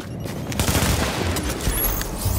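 Gunfire in The Division video game hitting a fortification: a dense, continuous fusillade of overlapping shots and impacts, loud and close, with no talking.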